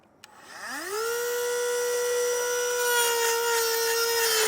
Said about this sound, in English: This is pretty hard steel, so I'm going to use a cut-off wheel.